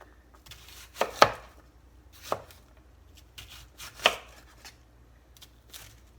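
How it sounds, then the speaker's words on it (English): A sharp knife chops a whole white sweet onion into coarse chunks on a cutting board, giving several separate crisp thuds at uneven intervals, close by and fairly quiet, with no talking. "we're just gonna leave them coarsely chopped like this"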